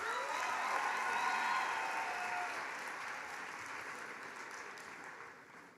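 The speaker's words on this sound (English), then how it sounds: "Round of applause, please." A graduation ceremony audience claps together, a dense, even wash of applause heard from a distance that swells briefly and then gradually fades.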